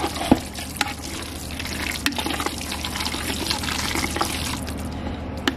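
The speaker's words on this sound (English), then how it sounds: "We're gonna stir this in very well." Grated cheddar cheese is stirred into cooked lasagna noodles. Soft scraping and wet squishing continue throughout, broken by a few sharp taps of the utensil against the pot, fairly quiet and close with no talking.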